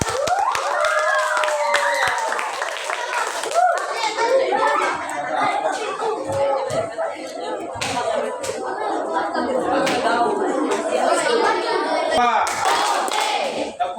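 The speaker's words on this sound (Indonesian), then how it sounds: "mari kita kasih aplaus untuk Salsa yang 2 kali ke depan" A classroom of children claps for a student named Salsa, bright sustained applause mixed with cheering kids' voices close by, lasting through the whole stretch.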